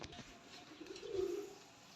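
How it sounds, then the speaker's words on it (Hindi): A red-footed male pigeon gives a single soft, low coo, faint and fairly close, rising briefly near the middle of a quiet moment with no speech. "बहुत लाजवाब कबूतर है"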